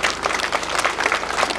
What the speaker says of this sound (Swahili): Naomba tupigie makofi mengi sana.